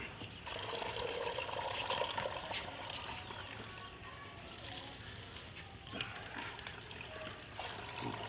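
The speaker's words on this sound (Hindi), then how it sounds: "अब हम इसमें साग डालने लगे हैं" Washed mustard greens are dropped into a pot of water heating over an open fire, producing continuous moderately loud splashing and trickling water sounds.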